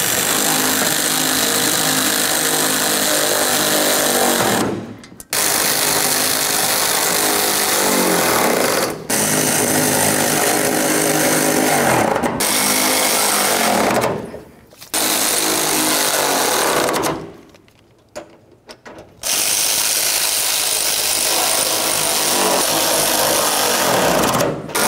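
A pneumatic impact tool runs in long, loud, continuous bursts with short pauses, snugging up the bolts on the parking brake cable mount of a 1988-2000 Chevy C/K1500 pickup.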